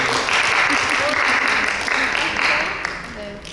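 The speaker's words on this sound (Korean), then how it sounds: "너무나 아름다운 여러분 박수 한번 부탁드립니다." Audience applause at a book concert and author lecture for an essay writer, a steady wash of clapping throughout with some voices mixed in underneath.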